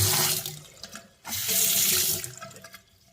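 Water gushes from a newly installed Moen bronze two-outlet faucet in loud, steady bursts, stopping briefly before running again, then tapering off.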